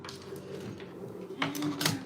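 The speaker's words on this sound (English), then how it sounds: "Sewing machine." Sewing machine stitching a test buttonhole on a fabric scrap, a quiet mechanical whir with light rapid clicking that swells into louder bursts near the end, heard alone.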